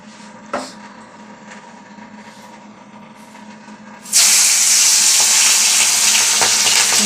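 Fish frying in a pan at home for a Bengali lunch: after a quiet stretch of low kitchen noise, a loud, steady sizzling hiss bursts in and carries on strongly to the end.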